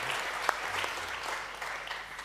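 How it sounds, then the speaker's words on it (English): Applause from an audience at an insurance industry conference, a brief, fairly quiet spell of many hands clapping evenly, with a sharper single clap standing out early. "So please still applaud yourself."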